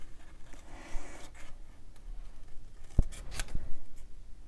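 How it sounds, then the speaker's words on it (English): Scissors fussy-cut small paper leaves for a handmade card, making a few quiet, close snips and rustles of paper with a sharper snip near the middle, and no talking. "So sorry for all the fussy cutting on this card, but these leaves are just too cute."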